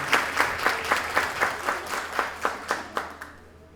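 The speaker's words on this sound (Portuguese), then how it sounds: "Aplausos, gente!" Audience applause at the opening session of an academic summer school, a few rhythmic claps standing out in a regular beat before the clapping fades toward the end.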